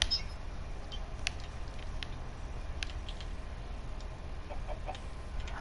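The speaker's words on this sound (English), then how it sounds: "there's a fucking chicken in here" A Minecraft chicken clucks in short, faint bursts scattered over quiet background hiss, soft and nearby, with no talk over it.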